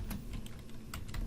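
Keystrokes on a computer keyboard, a short burst of separate taps at close range over a low background hum, with no voices.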